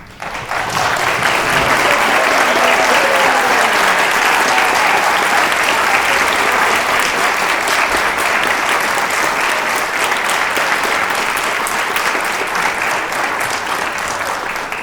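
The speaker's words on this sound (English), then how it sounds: "can we just have all the seniors stand and can we just clap for them real quick?" Loud, sustained applause from a concert audience cheering standing seniors at a spring band concert, dense clapping that starts abruptly and holds steady throughout with no talk.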